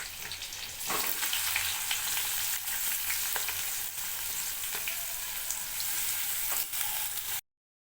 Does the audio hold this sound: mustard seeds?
yes